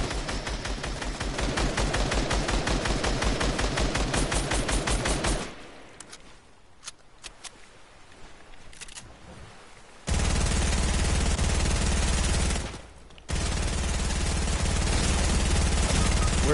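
Rapid automatic gunfire from a video game rattles in long sustained bursts, loud and close, broken by a quieter stretch with a few isolated shots before heavy firing resumes.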